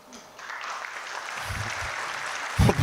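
Audience applause for a sick child at a French comedy music-hall show, a steady clapping crowd swelling slightly, with a louder burst of claps near the end.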